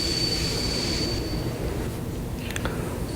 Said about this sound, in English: Train number 5096 was flying down the tracks at 120 miles per hour